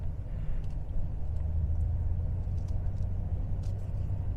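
A 2017 Mercedes E300 with 24K miles rolls slowly around a parking lot, giving a low, steady, muted cabin rumble with no sharp revving.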